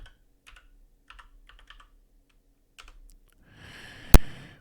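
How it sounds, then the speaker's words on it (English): Light keystrokes on a computer keyboard come in short, scattered clusters, near and fairly quiet, followed by a louder rushing burst and one sharp click toward the end. "Let's type nodejs."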